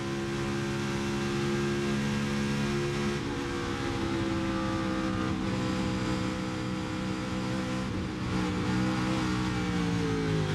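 NASCAR Cup Series race car heard onboard at Chicagoland Speedway, engine roaring at high revs with steady harmonic whine, brief lifts and pickups as the car is upset by bumps, loud and close throughout.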